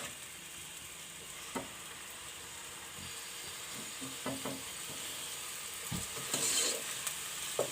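Chopped onion and garlic frying in a pan for a turnip curry, a steady close sizzle with occasional soft spatula scrapes and stirs, no talking.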